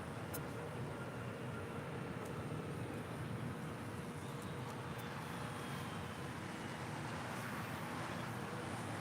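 Nippon Cargo jumbo jet taxiing at LAX, a faint, steady, distant jet engine rumble and whine with broad roar throughout, no talking.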